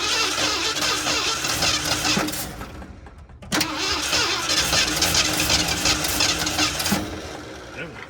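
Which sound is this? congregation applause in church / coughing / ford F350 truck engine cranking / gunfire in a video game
ford F350 truck engine cranking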